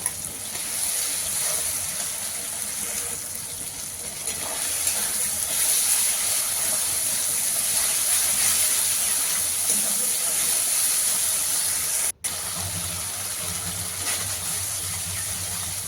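Spice paste of cumin, ginger and chili frying in a pan gives a steady broad sizzling hiss, moderately loud and continuous, cut by one very brief dropout near the end.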